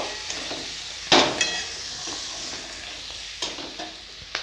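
Peas, chili powder and turmeric powder are stir-fried in a pan for cabbage curry, a soft steady sizzle broken by one loud scraping clatter and a few lighter spoon taps. No talking.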